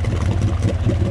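A side-by-side UTV such as a Polaris RZR XP 1000 idles on a summer trail ride, a loud, close, steady low engine rumble heard alone.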